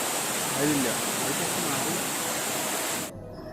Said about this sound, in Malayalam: നല്ല ശബ്ദം കേൾക്കണില്ലേ അത് വെള്ളത്തിന്റെ